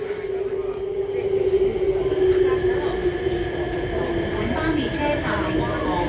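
An MTR SP1900 electric train on Hong Kong's West Rail line, Tuen Ma line, runs from East Tsim Sha Tsui with a steady motor whine, rumbling wheels and rattling cabin noise, heard from inside the carriage.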